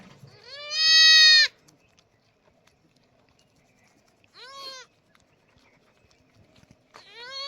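A goat that has just given birth bleats on a farm on a cold early morning: one long, loud, close wavering cry, a shorter bleat a few seconds later, and a third starting at the end, with quiet between.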